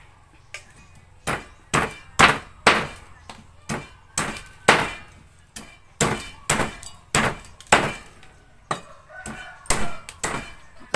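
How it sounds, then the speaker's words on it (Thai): Steady rhythmic chopping of chicken for larb, a knife striking a cutting board about twice a second, sharp loud close knocks with brief gaps between them, and faint voices in the background. "หั่นลาบ"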